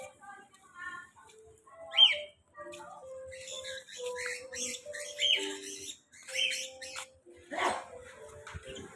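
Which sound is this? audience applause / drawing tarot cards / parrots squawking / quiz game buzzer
parrots squawking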